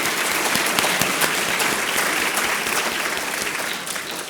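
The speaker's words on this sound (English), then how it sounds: "I think we should give them a round of applause for their support." Applause from a lecture-hall audience after a talk on longevity among the oldest old, loud dense clapping that holds steady and begins to taper toward the end.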